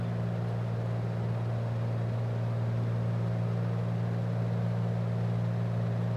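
A Piper Cherokee P28R single-engine airplane drones steadily in flight, an even, continuous engine hum heard from inside the cabin, with no talk.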